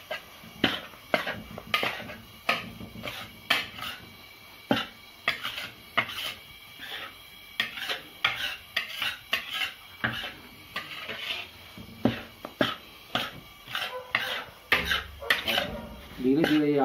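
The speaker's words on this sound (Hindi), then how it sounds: "धीरे धीरे आटा सीकना चालू हो गया है, मंदी आंच पर इसको सेक रहे हैं।" Wheat flour roasting in ghee in a pan over low heat for gond laddoos, stirred with a spoon that scrapes and clinks against the metal in steady repeated strokes, close and fairly loud.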